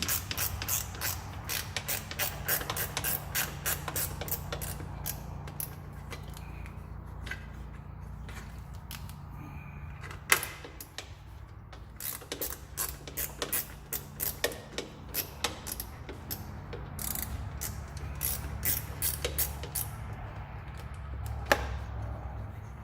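A ratchet wrench loosens 10mm bolts on top of a 3.5 EcoBoost engine in a 2WD Ford F-150 during disassembly, giving long runs of fast, close metallic clicking with short pauses between bursts over a low steady background hum.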